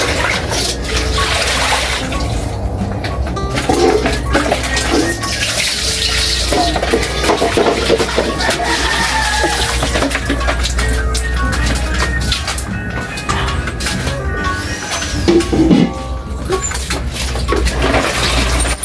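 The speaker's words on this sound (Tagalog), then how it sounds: "Ay, malakas yung tubig." A strong flow of water gushes steadily and loudly outdoors at a house lot, a constant rushing spray that continues without a break.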